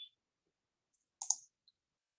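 Computer mouse clicks in a quiet room: a faint tick, then a sharp close click pair a moment later, followed by one soft tick.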